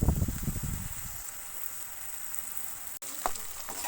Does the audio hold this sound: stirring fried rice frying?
yes